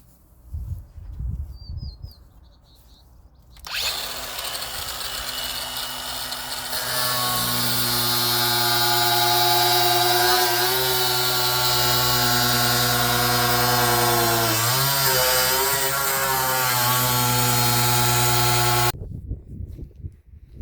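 Power tool cutting into a cracked 1.5-ton plastic water tank, a loud sustained droning whine that starts abruptly, shifts pitch briefly midway as the blade binds, then cuts off; no talking.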